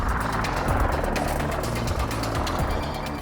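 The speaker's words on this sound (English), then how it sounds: "The 847 Squadron's attack helicopter is the Westland Lynx," A Westland Lynx attack helicopter passes close by and loud. Its rotor throbs in a fast, steady chop against a whining turbine for the whole stretch, with no speech.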